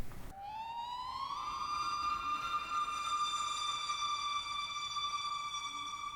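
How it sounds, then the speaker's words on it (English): A lone synth line with pitch bend glides upward by one octave and then holds a steady, bright tone with rich harmonics, faint and eerie, with no voice or other instruments. "I played one more synth line which has pitch bend in it and it goes 1 octave up"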